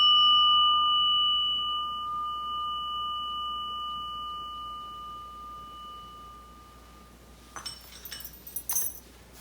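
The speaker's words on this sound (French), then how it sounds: "Tu peux utiliser aussi une cloche qui ressemble à ça." A single clear bell tone rings out and slowly fades over several seconds, followed by a few light clinks.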